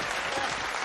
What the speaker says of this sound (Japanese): 皆さん拍手で迎えてあげてください